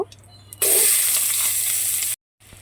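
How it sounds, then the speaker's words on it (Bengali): Chopped onions hit hot oil already used for frying fish, with whole dried chillies, bursting into a loud sudden sizzle that holds steady, then cuts off briefly near the end. "পেঁয়াজটা লাল লাল করে ভাজতে হবে।"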